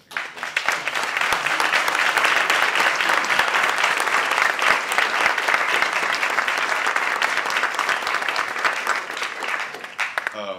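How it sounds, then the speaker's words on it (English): Audience applause for a panel of speakers after a reconstruction panel discussion, dense and steady, filling the room at full strength for about ten seconds before cutting off. "I'd like to extend a very big round of applause to our panelists"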